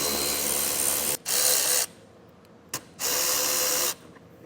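A powered socket tool whirring on 8mm bolts in the wheel well of a 2025 Chrysler, two loud sustained bursts of about a second each separated by quiet pauses and a brief click.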